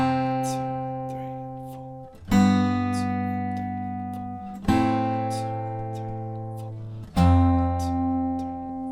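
Guitar plays the bridge of a song, two strings plucked together. Four chord strikes ring out and decay in turn, clear and close, with no talking.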